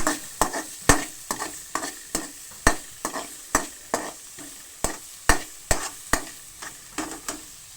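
Green chilies, coriander, pepper powder and a paste frying in a pan for momos, stirred with a spatula: quick rhythmic scraping strokes, roughly two per second, over a soft, close sizzle.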